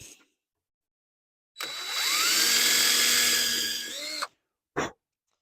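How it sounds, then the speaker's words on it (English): A power drill whirs loudly for about three seconds, its pitch sagging as it bites into a knife handle, then spins briefly again after a short pause. "we'll go ahead and drill out handle for our other knife."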